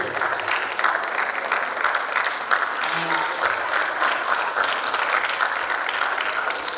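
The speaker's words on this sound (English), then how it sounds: "Big round of applause" Loud applause from diners for volunteers at a Jain community Diwali dinner, dense sustained clapping with a brief voice in the middle.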